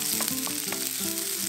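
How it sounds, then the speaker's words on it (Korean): Onions stir-fry in cooking oil with minced garlic, giving a loud, close, continuous sizzle with a few light stirring taps. "양파 먼저 볶아주세요."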